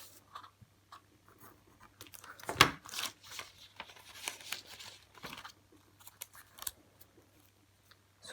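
Scissors snipping cardboard to make a nose flute in a kids' instrument workshop: quiet, close-up crisp cutting crunches and scrapes arriving in short irregular bursts, with one sharper snip partway through.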